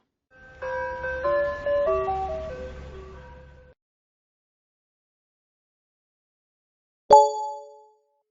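Ice cream truck chimes in a children's vehicle video game play a short electronic melody over a low engine rumble, then silence, followed by a single bright ding that rings out and fades.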